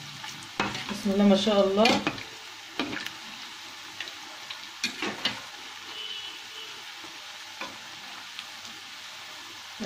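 Zalabia dough balls fry in hot oil as they are stirred, with a soft sizzle and scattered clicks of the spoon against the pot. A brief voice speaks near the start.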